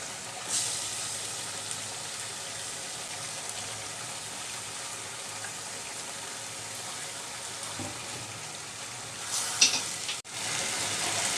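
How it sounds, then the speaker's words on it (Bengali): Katla fish pieces fry in a pan with potatoes and taro, a soft continuous sizzle heard at low level with a brief clatter near the end, no voices. "এবার দিয়ে দিব আমি কাতাল মাছ"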